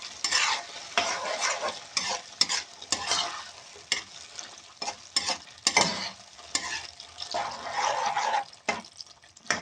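Spaghetti meatball sauce stirred in a pan with a utensil, giving repeated scraping, sloshing strokes in an irregular rhythm, close and moderately loud, with no talking.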